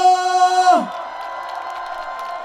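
At an outdoor opening-ceremony concert for the Gochang Moyangseong festival, a sustained tone gives way to a distant, diffuse crowd roar of applause and cheering that carries on at moderate level.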